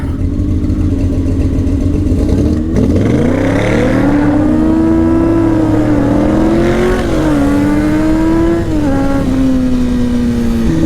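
A street car launches hard from a standstill at a street race, its engine note dropping then climbing steadily through the revs as it pulls away, loud and close with a rough exhaust rumble throughout.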